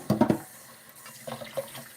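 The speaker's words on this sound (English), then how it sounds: "So your lye is pouring into the oil." Lye water mixture poured into oil for Castile soap, a splashy liquid pour in short gurgling bursts at the start, then quieter trickles, close and fairly loud.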